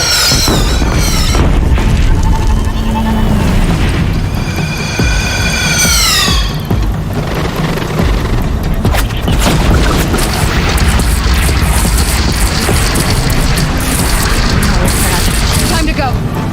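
Heavy cannon booms from a platform in Horizon Zero Dawn, loud and repeated over a dense, busy battle mix with swooping effects and voices.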